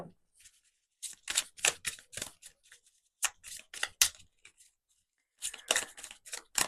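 A deck of tarot cards is shuffled close by in quick riffling bursts, crisp and soft, separated by short pauses.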